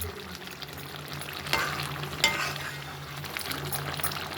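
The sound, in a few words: quail gravy cooking and stirring in pan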